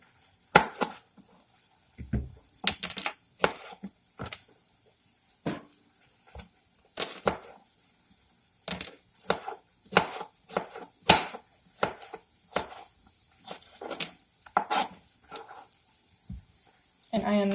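A knife chops vegetables on a cutting board in a long series of crisp, uneven cuts and taps, close by, with brief pauses between strokes.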